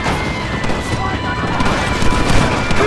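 Heavy gunfire rattles continuously as rebels ambush a group in the video game Red Dead Redemption, dense overlapping shots and bursts filling the scene at high volume, with shouting voices mixed in.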